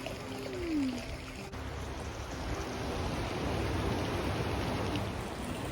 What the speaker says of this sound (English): let me shower.